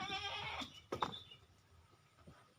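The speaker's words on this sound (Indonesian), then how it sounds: "mari kita lihat seperti apa kondisi kambing ternaknya Mas Samsi ini" Goats kept as farm livestock bleat in a pen, with several overlapping calls close by that fade into quieter background noise.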